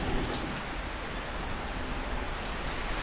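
Steady rain pours down in a continuous, even hiss, with no voices or other sounds over it.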